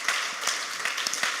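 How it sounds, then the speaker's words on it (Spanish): Church congregation applauding together during a Spanish-language sermon, a steady wash of hand claps with a few sharper peaks throughout, fairly faint and unaccompanied by speech. "¿Puede dar un aplauso al Señor por eso,"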